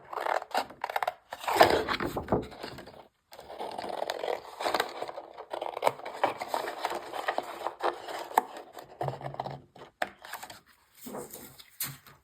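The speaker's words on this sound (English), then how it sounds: "what we're going to do is we're just going to cut like a rectangle" Scissors cutting a paper rectangle for a paper-craft advent calendar: soft, close snipping and rustling in short irregular bursts, fairly quiet with no talking.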